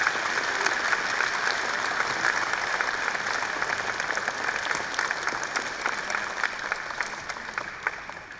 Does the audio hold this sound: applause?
yes